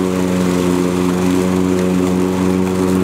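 A Toro Recycler lawn mower runs under strain, a loud, steady close engine drone with a buzzing hum throughout and no talking.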